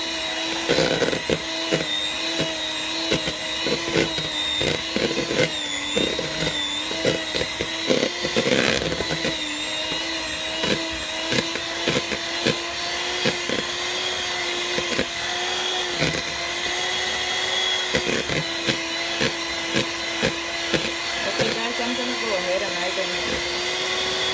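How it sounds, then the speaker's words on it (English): Electric hand mixer whirring steadily while blending a Guyanese cheese spread in a bowl, a continuous loud motor drone with brief pitch dips as the beaters work, running throughout with a voice heard talking over it. "So I would be using my hand mixer to blend and get mix this and combine this all together"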